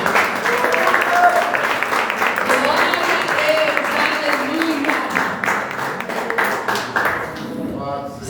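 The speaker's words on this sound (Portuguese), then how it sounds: "aplauda o nome do Senhor, meu irmão." Worshippers in a church keep up continuous, crowded applause for several seconds, a loud sustained patter of many hands with a voice speaking over it.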